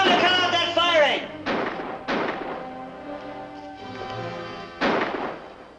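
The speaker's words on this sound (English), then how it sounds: "Tell him to cut out that firing!" Gunfire in a 1954 western film: four booming shots spaced unevenly, each with a long echoing tail, heard alongside voices.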